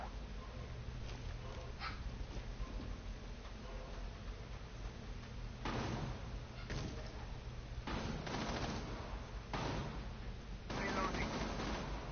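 Gunfire in the Rainbow Six Siege video game, bursts of distant rapid shots recurring several times over a low steady background, faint and muffled rather than close.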